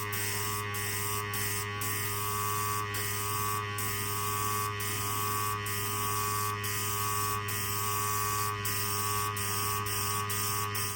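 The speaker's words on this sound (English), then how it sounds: "we're going to spray some of this" A steady hiss of an airbrush spraying paint runs continuously over a constant electrical hum, with brief regular dips where the spray stops and restarts.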